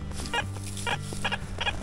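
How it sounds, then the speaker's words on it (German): A metal detector chatters during a treasure hunt, its coil disturbed by an Osmo Action camera. It gives repeated short, buzzy clucking bursts over a steady low hum, close and fairly loud. "warum mein Gerät so schnattert, also mein Detektor"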